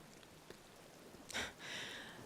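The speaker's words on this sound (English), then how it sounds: "Don't stand under the rain." Rain falls as a faint, steady patter, with a soft broadband wash that swells briefly in the middle and then holds. No voices are heard.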